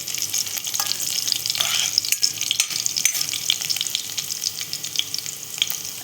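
Garlic cloves sizzle and fry in a hot pan for a rural monsoon vegetable dish, a steady close crackle with occasional stirring scrapes and no talking.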